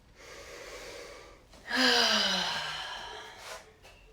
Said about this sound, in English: Take a few breaths there.